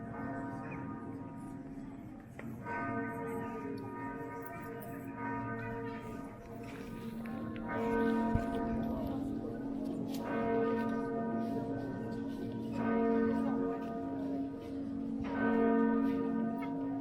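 A newly blessed church bell at the Saint Aubin collegiate church in Guérande rings with repeated sustained strikes, each ringing tone decaying into the next, resonant and moderately distant.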